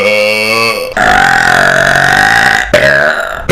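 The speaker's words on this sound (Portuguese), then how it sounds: "Sou o rei do arroto e você não." Long, loud burp drawn out over several seconds, deep and tonal with a wavering pitch, briefly breaking before resuming in a second belching stretch, very close and alone.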